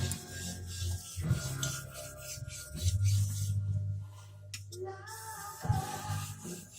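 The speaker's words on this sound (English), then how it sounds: "I usually just finish this knife on the stone because it refines it really good" A knife is drawn across a sharpening stone in a series of close, rasping strokes, separated by short pauses, over a low steady hum.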